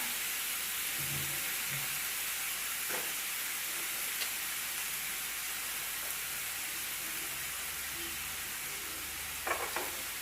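Mushrooms, onion and garlic fry in butter on a stovetop with a continuous soft sizzle and hiss, fairly quiet and even, with occasional faint clinks of a utensil and no talking.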